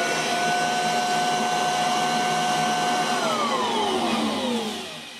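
Kirby Heritage 2 vacuum cleaner running with its hose attached, a steady loud motor whine and airflow hum that drops in pitch near the end as the motor winds down, with no talking.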